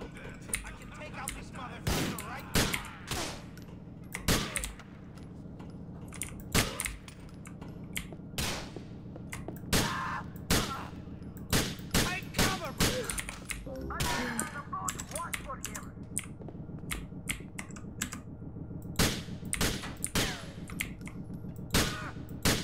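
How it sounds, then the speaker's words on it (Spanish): Gunfire in the video game Grand Theft Auto IV: sharp, loud shots ring out throughout, some in quick pairs and some in bursts, over a steady game backdrop while a person talks. "Solo a veces disparo dos veces, el primero lo fallo."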